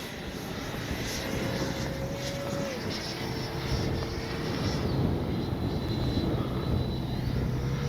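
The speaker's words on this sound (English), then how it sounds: "Plane sounds so good." Loud, steady jet engine whine from a Freewing 90mm J-10 RC jet passing close by, pitch shifting slightly as it goes.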